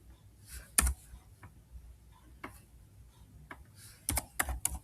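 Someone types on a computer keyboard entering form data, with scattered individual key clicks, a louder thump early on, then a quick burst of several close keystrokes near the end.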